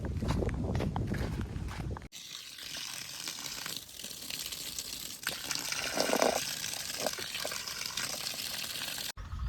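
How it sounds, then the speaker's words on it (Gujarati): Irrigation water gushes steadily into a flower field on a farm, a constant rushing flow with a few footsteps and no speech. "આ ફુલવારમાં ચાલુ કરી દીધું પાણી"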